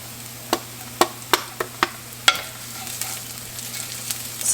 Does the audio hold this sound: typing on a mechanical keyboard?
no